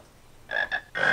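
Three short, bright croaks from a frog in the game Harry Potter and the Philosopher's Stone, two close together then a third after a pause, clear and alone against a quiet background.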